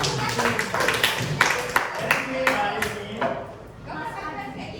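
A class of students breaks into rhythmic clapping, a run of crisp patterned claps for a few seconds that tapers off under nearby voices and room chatter.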